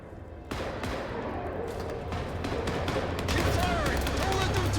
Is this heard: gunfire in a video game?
yes